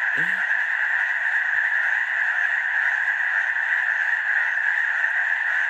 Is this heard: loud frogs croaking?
yes